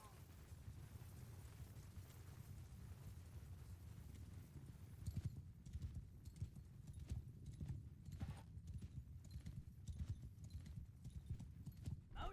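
Cavalry horses gallop in a Mount & Blade II: Bannerlord battle, their hooves making a dense, continuous drumming. The sound is fairly faint and sits over a low rumbling background.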